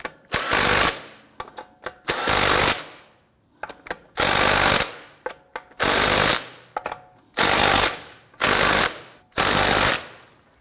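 Impact wrench bursts tightening the front wheel lug nuts of a 2001-2009 Volvo S60 in a crisscross star pattern: six loud, rattling bursts of about a second each, separated by short pauses and small clicks, with no talking.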